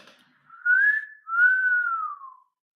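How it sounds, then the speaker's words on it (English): A two-part whistle, a rising note followed by a longer falling one, clear and close with no other sound. "I wolf whistled Amy Adams."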